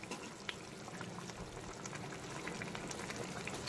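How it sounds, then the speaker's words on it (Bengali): Almond paste gravy with fried Bhola fish bubbles on a full flame, a soft, steady boiling crackle with faint pops throughout and no voices. "পুরো এখন কিন্তু গ্রেভিটা টকবক করে ফুটতে শুরু করেছে, দেখতেই পাচ্ছ"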